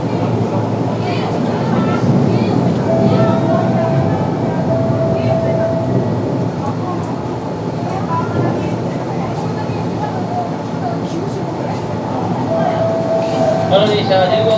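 Steady rumble of a Kintetsu 8600 series resistor-controlled electric express train running from Yamato-Yagi to Yamato-Saidaiji, a continuous interior drone with faint squeals, with an announcement voice heard over it.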